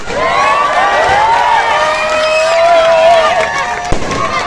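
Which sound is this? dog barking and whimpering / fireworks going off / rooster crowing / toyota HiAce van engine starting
fireworks going off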